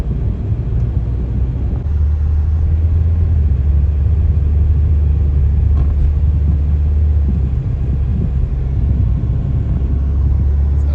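A car with a turbo engine runs along an open road, giving a steady, loud low rumble that holds evenly for the whole stretch with no voices.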